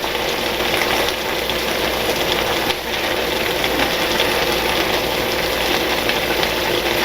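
Flour stirred into hamburger meat frying in a pan for a homemade Hamburger Helper–style dish, a steady close sizzle with faint scraping and no talk over it.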